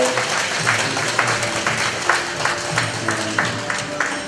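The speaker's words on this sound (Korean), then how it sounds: "스님들은 같이 그냥 큰 박수 한번 해주세요" Applause rises from a gathering at a temple memorial ceremony, moderately loud with a few distinct claps standing out at an even pace, and voices faintly mixed in beneath it.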